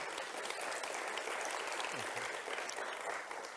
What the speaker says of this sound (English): can you give you a round of applause?